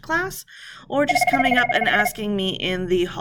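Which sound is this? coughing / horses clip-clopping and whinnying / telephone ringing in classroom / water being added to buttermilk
telephone ringing in classroom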